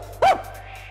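A single short bark from a dog, sharp and fairly close, standing out against a quiet background.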